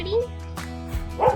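Marina guard dogs at a Dominican Republic marina give short yips and whimpers close by, heard among people talking.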